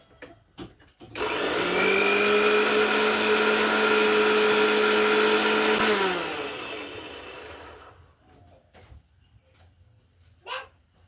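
A blender with its lid on whirs loudly through garlic mayonnaise for about five seconds, its motor whine then winding down and fading, with a few light clicks before and after.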